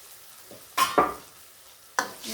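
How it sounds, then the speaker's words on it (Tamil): A spoon stirs a bubbling masala gravy in a pan for a crab curry, with two close scraping sweeps early, then a third sharp scrape, over a soft simmering hiss. "கிண்டி விட்டுட்டு மறுபடியும் கொஞ்சம் வேக விடுவோம்."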